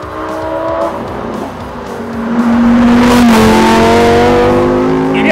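A Lamborghini Huracán EVO RWD Spyder's V10 engine pulls loudly as the car drives, its tone rising through the rev range in a strong, close, continuous wail with a slight tire noise underneath.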